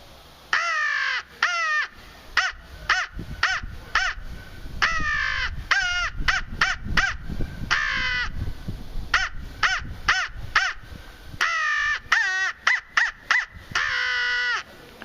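A handheld synthetic crow call is blown to imitate crows, giving a long series of loud, nasal caws close to the listener, delivered in uneven bursts of two to four with short pauses between them.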